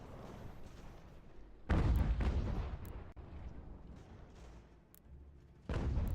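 Artillery and mortar fire in the strategy game Ultimate General: American Revolution, with two heavy booms about four seconds apart over a low rumbling battlefield bed, plus scattered fainter distant shots.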